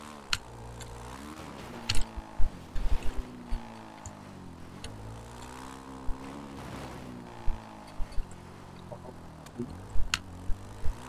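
Quad bike engine in GTA 5, a steady low drone with rising and falling revs that runs throughout, broken by scattered sharp clicks and thumps.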